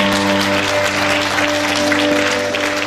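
Audience applause at a Korean radio-hosted winter music concert in Busan, a steady wash of clapping over sustained musical tones, close and loud throughout.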